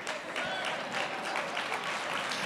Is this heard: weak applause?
yes